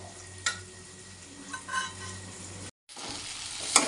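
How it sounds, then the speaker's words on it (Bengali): Potatoes fry with spices in a pan, a soft steady sizzle with a few stirring scrapes and a brief dropout near the end, close and without talk. "আলুর সঙ্গে মশলাটা কষানো হয়ে গেছে"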